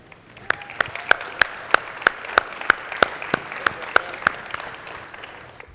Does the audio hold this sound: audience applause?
yes